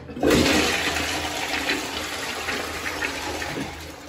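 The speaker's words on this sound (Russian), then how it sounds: "Бесшумный слив и такой вот унитаз с микролифтом для сидушки." A Grohe installation toilet with a pneumatic button flushes, a loud rushing gush of water that starts suddenly, then settles into a steady, softer draining and refilling hiss.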